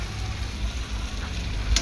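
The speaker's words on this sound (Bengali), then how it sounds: "মোটামুটি এই চিংড়ি মাছটা ভাজা হয়ে গিয়েছে, খুব বেশি ডিপ ফ্রাই করবো না" Prawns fry in hot oil in a pan, giving a steady close sizzle with a low bubbling rumble and a brief sharper crackle near the end.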